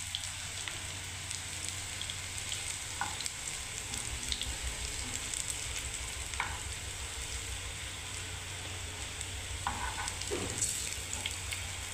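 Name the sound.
raw banana koftas frying in oil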